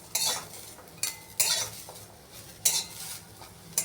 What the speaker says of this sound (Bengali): এটা এবার নেড়ে চেড়ে আমি নামিয়ে নেব।